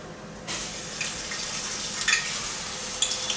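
Plantain slices for mofongo frying in a pan of hot oil on a stovetop, a steady close sizzle with brief crackling spurts and pops as pieces shift, with no talking.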